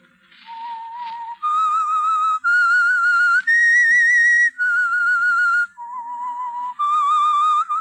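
Whistled theme tune of the radio show The Whistler, a clear solo melody of sustained, wavering notes rising and falling in steps, loud and close with no talking.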